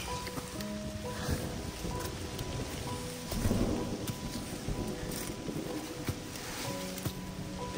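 Steady rain with gusting, buffeting wind noise and low rumbles, continuous and fairly close throughout, on a steep slope in Sri Lanka.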